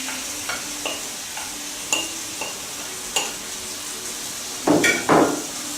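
Cooked organic green lentils stirred into vegetables in a frying pan, with soft scraping stirs recurring every second or so over a steady sizzle and two louder clatters near the end; no talking.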